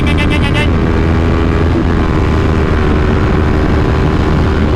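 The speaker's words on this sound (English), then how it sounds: "Alright, let's give her a little gas, shall we? That's full throttle right there, baby." A Kawasaki Ninja 400 motorcycle runs at full throttle, making a loud, continuous engine roar heard up close over rushing wind, with the pitch climbing slightly at the start before holding steady.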